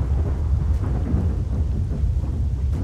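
Deep, low rumbling thunder rolls continuously through an abandoned-zone setting in the video game S.T.A.L.K.E.R.: Shadow of Chernobyl, a steady heavy murmur with faint rain-like texture and no voices.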